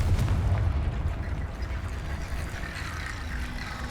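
Confringo fire spell in the video game Hogwarts Legacy sets off a loud, rumbling explosive burst at once, then decays into a sustained low roar with crackling debris.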